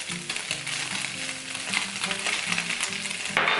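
Chicken bacon pasta sauce sizzles steadily in a hot pan while flour is stirred through it, with scraping spoon strokes over the continuous frying hiss.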